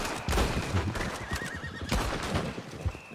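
Horse whinnying loudly in Red Dead Redemption, the neigh rising over steady background game noise, with a horse apparently hit by a bullet and still galloping.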